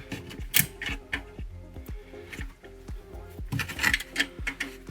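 Metal clicks and ratchet-like taps from a socket wrench working the rear support bracket bolt on the alternator of a 2014-2017 Chevy Caprice PPV, a quick, close series of sharp ticks with no talking.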